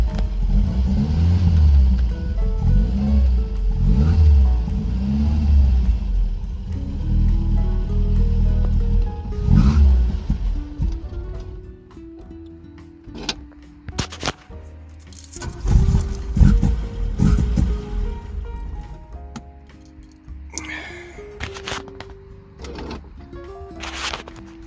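A 1977 Vauxhall Cavalier MK1 engine with a Weber 32/36 DGV carburettor runs on a warm day, uneven and lumpy at first, then idling rougher with sharp knocks and clatter close by.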